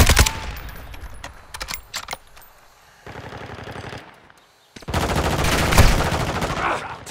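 Rapid automatic gunfire rattles in Call of Duty: Modern Warfare II multiplayer, with dense bursts near the start, a quieter stretch with scattered shots, then a long loud sustained burst near the end.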